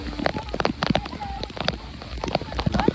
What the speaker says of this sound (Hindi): दोस्तों बारिश आप देख ही रहे होंगे कितनी ज़्यादा बारिश हो रही थी।